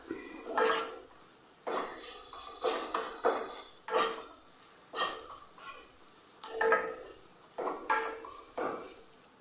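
A spatula scrapes and stirs food roasting in a metal pan, in repeated rhythmic strokes about once a second, with clinks of metal on metal. It sounds close and moderately loud, with no talking.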